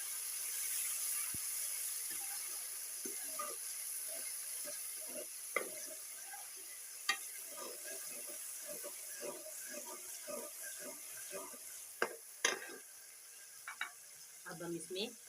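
Garlic and ginger paste sizzles in a pan with a steady, faint frying hiss, broken by scattered light scrapes and clicks of stirring.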